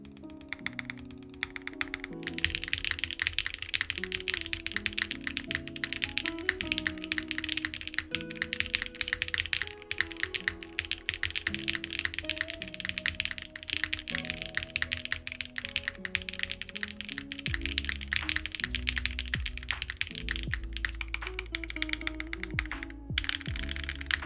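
Steady typing on a Beta60 mechanical keyboard with an Evangelion theme and a PC plate, giving a muted, subdued clack. The keystrokes run in a fast, continuous stream close to the mic, with music playing underneath.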